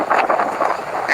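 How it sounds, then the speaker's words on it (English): Wind buffets a microphone outdoors on a city street, a dense, uneven roar that surges and dips for about a second with no clear voices over it. "It's windy"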